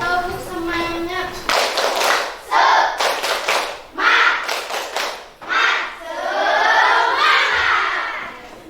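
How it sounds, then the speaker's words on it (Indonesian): A classroom of primary schoolchildren performs a spirit clap, bursts of rhythmic clapping mixed with shouted chants and cheering, loud and close, with a teacher's voice leading at the start. "Ya, tepuk semangat."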